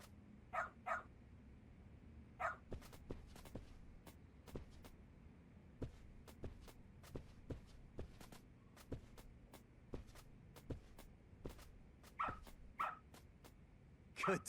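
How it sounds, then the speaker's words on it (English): Dog barking and sniffing in the video game Lost Judgment, a quiet run of short sniffs with a few small yips and barks scattered across the span, no talk. "Good dog. Very good dog."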